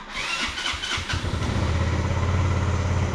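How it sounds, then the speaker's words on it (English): A motorcycle engine cranks briefly, catches, and settles into a steady, close idle with a low throb, on a rural road by rice fields in Surin, Thailand. "Okay, let's start the bike."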